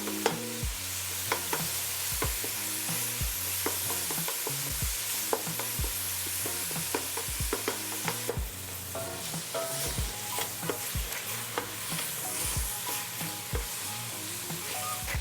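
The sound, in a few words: vegetables sweating and sizzling in a pan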